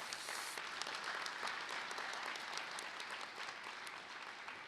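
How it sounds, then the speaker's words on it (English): Audience applause fills the room at the Newport News Sheriff's Office annual promotion awards ceremony, a dense, steady wash of many hands clapping from start to finish, with no speech over it. "Let's give them a round of applause, y'all."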